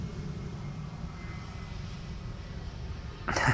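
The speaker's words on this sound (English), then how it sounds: "Emirates Flight 148 going back to Dubai. Taking off from runway 24." An Emirates airliner takes off from runway 24 at Amsterdam Schiphol, a steady distant engine roar filling the scene and swelling slightly louder at the end.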